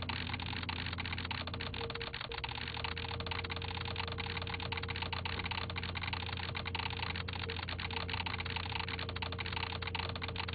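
Continuous rapid keyboard-style typing effect from the video game Icey: Rogue Program, a dense unbroken stream of clicks running steadily at even loudness over a low hum, with no pauses throughout.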